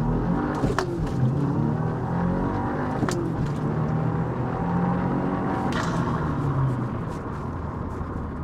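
A 2022 Subaru WRX held on launch control, engine droning steadily at raised revs as boost builds, with a few sharp transient clicks or pops over the continuous close, loud exhaust note.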